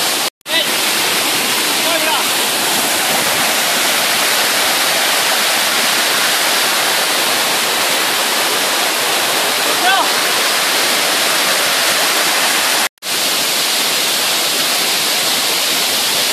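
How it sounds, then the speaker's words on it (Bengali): Steady, loud rushing roar of water from the tiered Khoiyachora (Tineshwar) waterfall in Mirsarai, continuous broadband noise filling the whole stretch with two brief cutouts. "তিনেশ্বরের ঝর্ণা"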